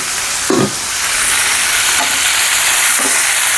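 Chopped tomatoes frying with onion and garlic in a pan for dal tadka, a steady loud sizzle with a few stirring scrapes near the start, middle and end.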